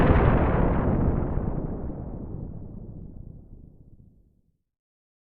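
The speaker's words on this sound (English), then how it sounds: "it's time to unleash some bombs." A loud explosion sound effect for an Orbital Bomb bursts at once and rolls into a long rumbling decay that fades to silence after about four seconds, with no voices.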